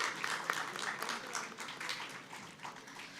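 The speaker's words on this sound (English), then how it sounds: "Can we have a big round of applause to Sri Srinivas Kuppa sir and Sri Dhanush sir on rhythm pad?" An audience at a felicitation ceremony applauds musicians who played rhythm pad, moderate steady clapping from a crowd that fades slightly toward the end.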